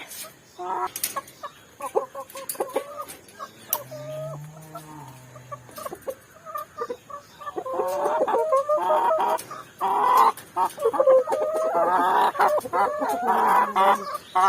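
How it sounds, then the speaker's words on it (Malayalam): Hens cluck and squawk close by, with a rooster crowing partway through, the clucking growing busier and louder toward the end. "ഇതാണ് എൻ്റെ കോഴികൾ"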